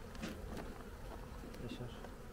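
Steady buzzing of bees, close and continuous, with a busy hum of many insects throughout.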